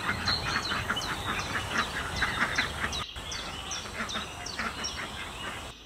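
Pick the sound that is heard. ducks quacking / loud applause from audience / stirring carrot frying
ducks quacking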